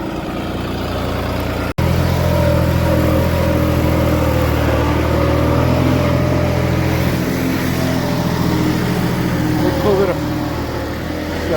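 A loud, steady diesel tractor engine chugs close by throughout, deep and rumbling, pulling a reversible plough through red soil, with a brief sharp dropout near the start before the engine noise resumes.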